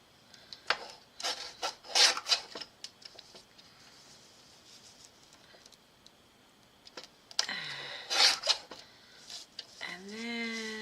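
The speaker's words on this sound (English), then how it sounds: "let me just do a little trim here" Paper card stock for a Christmas card is trimmed with a series of soft, close scraping and slicing strokes, quiet overall, with a short voice breaking in near the end.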